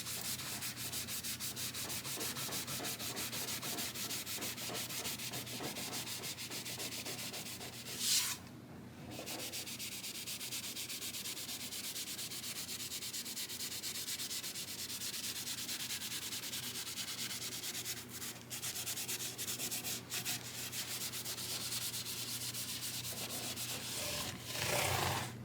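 A product is rubbed vigorously into the wood of a Gibson-style guitar, a continuous close, loud scrubbing and rubbing with a brief pause and a few sharper scrapes, no speech.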